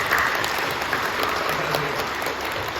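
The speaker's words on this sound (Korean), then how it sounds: "우리 뜨겁게 박수해 주시고 감사합니다." A church congregation at Incheon Full Gospel Church applauds warmly during a worship service, a steady even wash of clapping from a large group, heard alone and sustained throughout.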